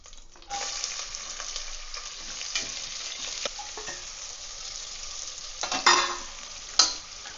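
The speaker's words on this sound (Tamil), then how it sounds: "இப்போ இதில் பொடியாக கட் பண்ணி வச்சுருக்க வெங்காயத்தை ஆட் பண்ணிக்கலாம்." Chopped onions frying in a pan for salna, a steady bright sizzle with occasional stirring scrapes and a couple of louder clatters near the end, close and with no talking.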